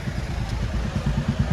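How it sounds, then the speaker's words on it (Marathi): Motorcycles and cars crawl through a jammed road crowded with pilgrims near Raigad, a steady mid-range engine drone with rattling idle pulses, close and continuous, with no clear speech. "आणि मोटरसायकली पण तेवढे येते, त्याचबरोबर 4 व्हीलर पण तेवढे येते."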